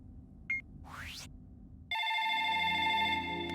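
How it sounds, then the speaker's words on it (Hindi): A telephone ringing: a short electronic tone and a rising sweep, then a steady, loud, multi-toned electronic ring starts abruptly and continues to the end, heard alone without speech. "Phone is ringing."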